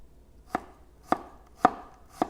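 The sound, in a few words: knife chopping garlic coarsely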